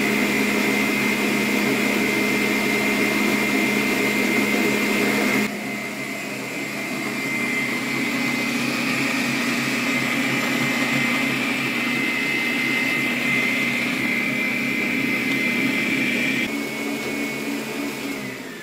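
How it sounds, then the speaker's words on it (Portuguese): An electric mixer beats egg whites until stiff for a heart-shaped cake: a steady, fairly loud motor whine runs the whole time, with a slight change in pitch early on and no talking. "vou ligar a batedeira e a gente vai começar a bater"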